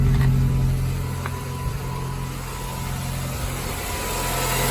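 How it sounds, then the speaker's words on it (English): Ford Ka EnduroKa race car engine idling in a workshop, a steady low rumble with a constant hum close by, holding an even level for several seconds with no voices. "That engine note though, woo, monster."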